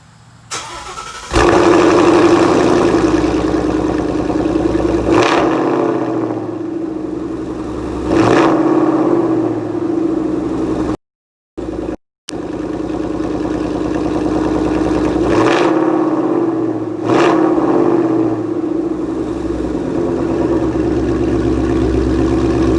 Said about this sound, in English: With the straighter pipe here, you're gonna get a louder sound, a deeper tone, more of that classic muscle car rumble.